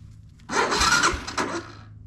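A 1985 Honda Fourtrax 250 ATV, fitted with a new battery, cranks over in a brief rough burst lasting about a second and a half after a quiet start.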